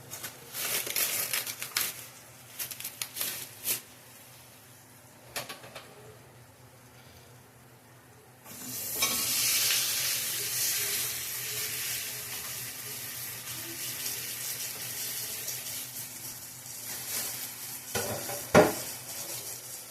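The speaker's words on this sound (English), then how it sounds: "So basically I just put them in on the medium heat with some butter." Half-frozen pork chops fry in butter in a pan over medium heat, with a steady close sizzle that swells louder partway through, along with occasional stirring and clinks of cookware.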